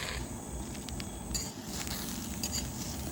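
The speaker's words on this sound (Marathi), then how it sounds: "स्टोववर एक कढई ठेवलेली आहे, त्यामध्ये साफ केलेली गवार आहे ती टाकून घेऊया।" Cleaned cluster beans tipped into a wok on a stove for a Marathi dry vegetable dish, heard as light metallic clinks and rattles of beans and utensil against the pan over steady background noise, with no talk.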